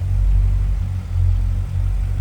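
A 7-liter LS7 V8 in a 2007 Chevrolet Corvette Z06 fitted with a K&N air intake idles steadily, a deep, close, continuous low rumble with slight rhythmic swells and no talk.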